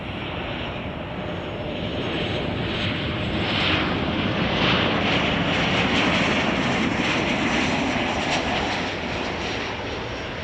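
American Airlines airliner landing on runway 10 Center at Chicago O'Hare, a loud continuous jet roar that swells in the middle and stays steady, heard from right beside the runway.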